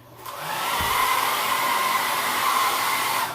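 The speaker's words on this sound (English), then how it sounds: "Take your hair dryer, wipe it off with a towel first." A hair dryer blows steadily at close range on a fogged mirror, a constant whooshing roar with a faint whine, starting after a brief moment of quiet.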